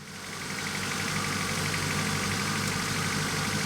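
A 1991 Honda Civic engine, just restarted after over ten years sitting, idles with a steady, close mechanical rumble and faint knocking that stays even throughout.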